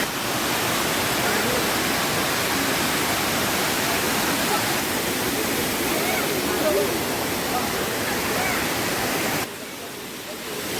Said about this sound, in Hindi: आप भी देख सकते हैं झरना इतनी खूबसूरत लग रही है